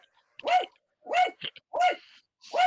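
A small dog barks four times in sharp, evenly spaced yips close by, with quiet gaps between barks and no speech.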